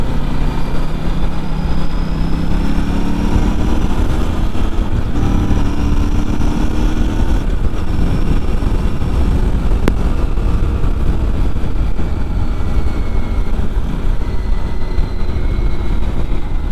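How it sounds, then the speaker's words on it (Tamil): An Aprilia RS 457 sport motorcycle engine drones steadily throughout, loud and close, with shifting revs and rushing wind noise as the bike rides along. "ரொம்ப நாளுக்கு அப்புறம் ஒரு ப்ராப்பர் ஸ்போர்ட் பைக் ஓட்டுறேன்"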